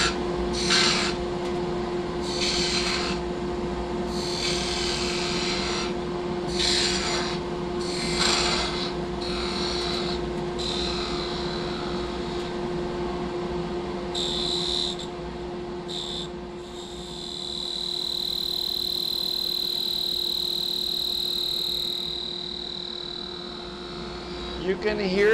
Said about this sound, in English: You can hear that harmonic. That's a little bit different than chatter work, and it's called ribbing.